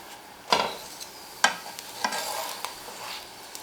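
Chicken mutabbaq edges frying in a dry pan with no oil, giving a soft, steady sizzle punctuated by several sharp scraping clicks as the edges are worked around the pan.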